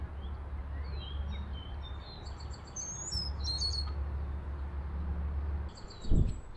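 Several birds, including cardinals, chirp and whistle in short, high phrases on the Grand River Trail in Kitchener, over a steady low rumble of distant traffic, with a brief thump near the end.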